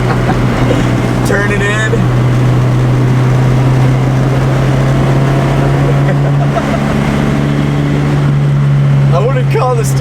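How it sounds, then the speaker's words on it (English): A 1967 Ford Cortina GT engine drones loudly and steadily from inside the car while driving, with the engine note shifting during a downshift as someone talks over it. "a little bit of a brake, I'll downshift"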